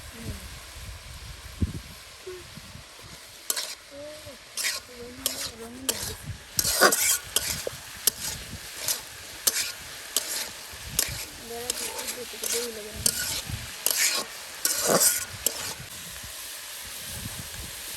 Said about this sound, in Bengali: আর কিছু দিন এখন শুধু তেলে উলট পালট করে নেওয়া।